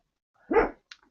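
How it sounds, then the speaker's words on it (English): A single dog bark sounds at a distance in the background, one short burst followed by a faint trailing yelp, with no talking. "you can hear the dog in the background"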